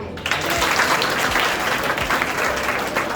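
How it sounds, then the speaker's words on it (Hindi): A crowd applauds the announced winner of a 2024 student election for general secretary, dense continuous clapping filling the room, moderately loud with faint voices underneath. "ताली हो जाए भैया।"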